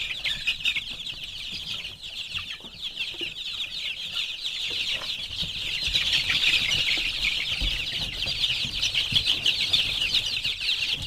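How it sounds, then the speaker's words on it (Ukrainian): Incubator-hatched chicks from meat-and-egg crosses cluck and cheep steadily in a busy, continuous chorus, with occasional wing flutters, no talking. "Всі ці курчата з інкубатора, до речі."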